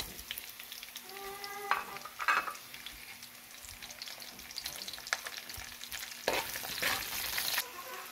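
Onion, ginger and garlic are sautéed for Filipino pinakbet, producing a steady frying sizzle with stirring scrapes and a few sharp utensil knocks against the pan, loudest toward the end.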